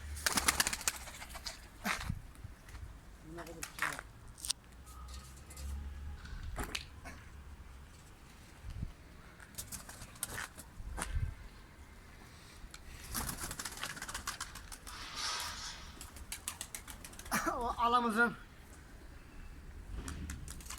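Domestic pigeons, breeding stock of a naked-neck show breed, coo softly in a loft, with intermittent low calls, faint rustling and wing sounds, fairly quiet and close.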